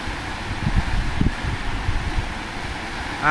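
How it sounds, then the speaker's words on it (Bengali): Broad, steady rushing of wind with low gusty buffeting, continuous throughout and moderately loud. "আর বাতাসের যা শব্দ"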